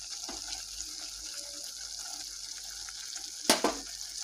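Poppy seed paste frying in oil with spices for an egg curry, a soft continuous sizzle with a sharp clatter of stirring near the end, no talk.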